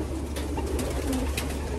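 Racing pigeons coo softly in a loft, a few low throaty calls repeating over steady background noise, no talk.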